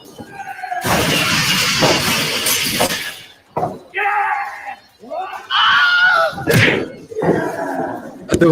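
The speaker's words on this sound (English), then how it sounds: "Big fan of the Wilhelm scream." The classic Wilhelm scream sound effect rings out amid crashing and shattering noises, followed by several loud, strained yelling cries, close and harsh, with short gaps between bursts.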